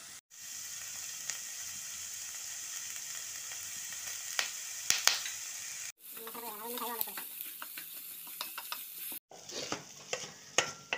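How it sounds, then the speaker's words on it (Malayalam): Onions frying in a pan for chicken cutlets with salt added, a constant close hiss of sizzling broken by spatula scrapes and stirring knocks, in three sections separated by brief cuts, with no talk. "ഈ സവാള നമുക്ക് നല്ലതുപോലെ ഒന്ന് മൂപ്പിച്ചെടുക്കണം."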